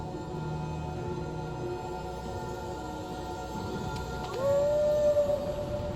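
A dog howls in the Final Fantasy XIV and XVI crossover game, a long rising tonal wail over a dense ambient music bed that swells near the end.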